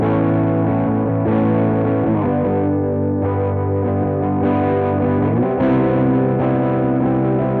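An electric guitar plays sustained chords through an Electro-Harmonix Green Russian Big Muff distortion pedal, tone knob fully down, its sound dark and muffled with the treble rolled off, ringing continuously.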